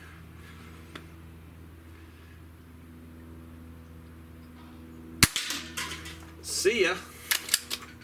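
A Hatsan Model 25 SuperTact Vortex air rifle fires at outdoor targets such as shotgun shells. A quiet stretch with a brief spoken word leads to one sharp crack, followed by a burst of louder mixed noise.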